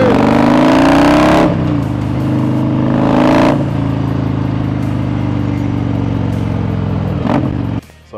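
A 2022 Harley-Davidson Fat Boy with a stage 4 128ci engine revs loudly up and down through several rising and falling pulls, close and dominant, ending with a sudden drop.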